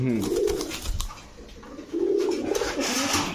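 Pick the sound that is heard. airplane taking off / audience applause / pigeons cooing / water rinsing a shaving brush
pigeons cooing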